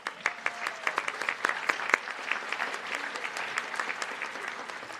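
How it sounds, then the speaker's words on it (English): Sustained audience applause fills an auditorium at a senior awards and scholarship ceremony, dense overlapping claps with some sharper individual hand claps standing out, steady and moderately loud throughout with no talk over it. "So please join me again in a round of applause thanking them"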